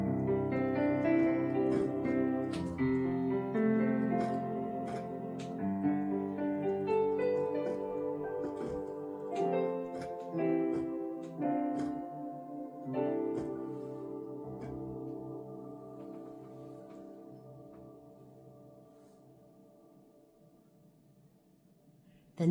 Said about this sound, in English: I love the piano sound with the Vox in the background,